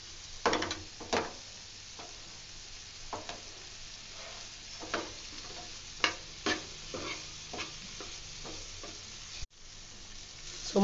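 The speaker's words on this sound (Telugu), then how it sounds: "సో ఇప్పుడు వీటన్నిటిని ఫ్రై చేయాలి." Sun-dried mutton, already boiled, is stir-fried in a pan with masala. Repeated scraping stirs sound over a steady low sizzle, close by, with no talking.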